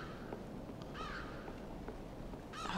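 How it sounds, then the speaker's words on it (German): Crows caw in the dark atmospheric video game Limbo, with two short bursts of harsh calls over a steady ambient hiss. "Ach, ist das nicht wunderschön mit den Krähen hier"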